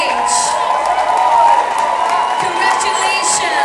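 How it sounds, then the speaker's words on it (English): An audience at a pole dancing competition cheers and claps, with whoops and shouts rising over the crowd noise and voices mixed in throughout. "I would like to hear a warm applause for every single lady on this stage"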